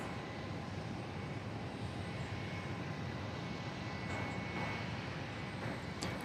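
Airplanes at Dallas Love Field Airport produce a steady, distant engine roar, a broad low rumble that holds evenly throughout with no voices.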